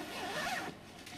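The door zipper on a Naturehike Cloud Up 2 ultralight backpacking tent is pulled open in one quick, close rasping stroke.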